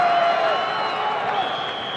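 A Cornell crowd at a 1987 NCAA men's lacrosse game against Syracuse, a brief roar of cheering and applause that fills the arena at moderate distance, steady and unbroken.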